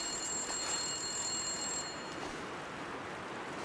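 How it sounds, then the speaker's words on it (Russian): A telephone rings inside a building in the survival game The Long Dark, a thin high electronic ringing tone over a steady windy hiss that cuts out partway, no voices. "Опять это звонит телефон."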